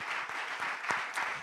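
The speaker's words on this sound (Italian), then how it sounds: "Spero che ti arrivi un po' l'applauso, che in realtà è molto caloroso." An audience claps steadily in warm, sustained applause at a climate camp talk, heard from a little distance as a continuous patter.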